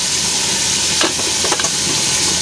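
Food fries in very hot oil on a used-oil burner stove, with bagoong going in for tinola. The sizzle is close and loud and holds steady throughout, with a few brief crackles and spatters.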